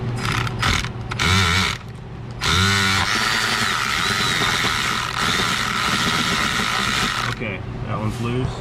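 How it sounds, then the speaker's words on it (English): A ratchet on two wobble extensions works at a bolt deep in a car engine bay, giving close mechanical whirring and clicking in several bursts with short gaps between them. "I've got 2 wobble extensions here to create a turn. That should allow me to remove this bolt back here."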